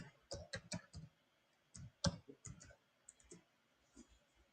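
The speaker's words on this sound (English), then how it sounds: "Type here to search, and then we will type in PowerShell." Typing PowerShell into the Windows search box on a computer keyboard, with bursts of close, crisp key clicks in quick clusters separated by short pauses.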